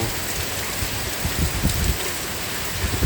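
Heavy monsoon rain with strong wind in Pattani, southern Thailand, a dense continuous roar of downpour with gusty rushing and drops pattering on surfaces, loud and unbroken with no voices.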